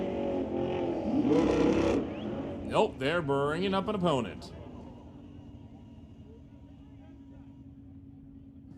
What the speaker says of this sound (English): You heard the Audi revving the motor.